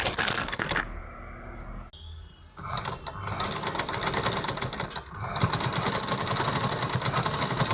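Sewing machine stitching fabric during tailoring work, quiet bursts of rapid mechanical chatter separated by brief pauses, heard up close.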